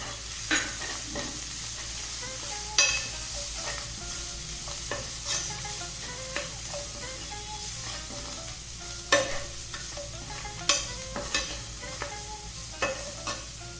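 Spices with turmeric, garam masala, salt and coriander being sautéed in a pan for vada pav potato filling, a steady soft sizzle broken by scattered scraping and stirring taps of a spoon, close and without talk.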